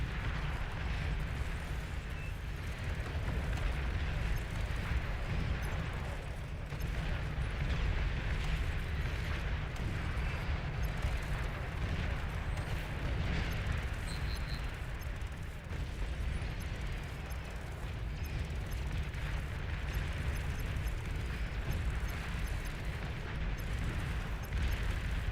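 A commander unit exploding in the strategy game Beyond All Reason, a long rumbling roar of explosions and blasts that holds dense and loud for the whole stretch.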